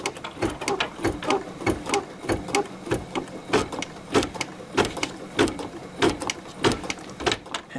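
An embroidery machine stitches out a cutwork coaster, a fast rhythmic mechanical clatter of needle strikes repeating evenly throughout, close and steady with no talking.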